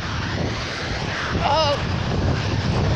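Strong gusting wind at a beach buffets the microphone in a steady broadband roar, with a brief tonal voice-like sound in the middle.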